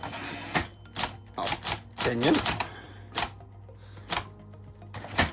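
Smith Corona Citation Power Correct XT electro-mechanical typewriter clacks in sharp, separate keystroke bursts at an irregular rhythm, close up, while someone talks briefly between strikes.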